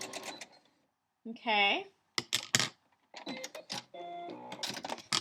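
A sewing machine stitching a narrow eighth-inch French seam, heard as short rapid whirring runs of stitching between bursts of someone talking, fairly quiet and close.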